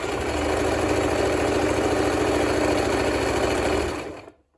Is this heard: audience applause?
no